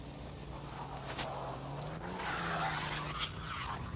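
A car slides on a snowy street with its brakes on, giving a faint, distant scraping skid and a low engine hum that swell and then fade over a few seconds.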